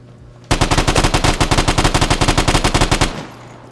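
Rapid automatic gunfire from an ES-16 rifle in the Vigor video game, a loud sustained burst of about twenty evenly spaced shots lasting nearly three seconds, then a short tail.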